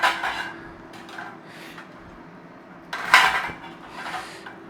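A cold metal cooking pan is handled in a home kitchen, giving a couple of clattering scrapes and knocks, the loudest clank coming midway, with no one speaking.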